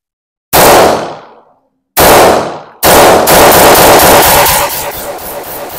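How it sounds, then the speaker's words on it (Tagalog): A Springfield Armory Prodigy pistol during target shooting: two sharp gunshots with decaying echoes, then a rapid string of shots fired in quick succession, loud and close. "So tara, putok ulit tayo."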